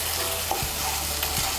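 Cashew and poppy seed paste stirred in a hot pan, with a close, even sizzle broken by a few soft scrapes of the spoon and no voices.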